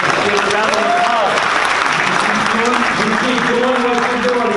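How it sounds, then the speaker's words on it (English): Steady, dense applause rises from a crowd at a Rotary District club recognition gathering. Voices can be heard over the clapping throughout. "let's give a round of applause"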